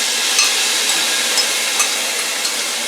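A piece of green pepper sizzles in a hot pan beside garlic, giving a steady, close, bright hiss of frying that holds evenly with a few small pops and no talking.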